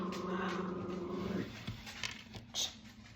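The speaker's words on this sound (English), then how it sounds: "Sorry, the dogs." Dogs indoors whimpering and growling softly through a low steady background, with a brief sharper yelp near the end; fairly faint and without clear speech.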